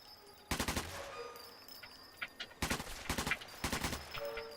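Automatic gun firing in a video game, several loud rapid bursts of a few seconds each separated by short pauses, with game ambience between them.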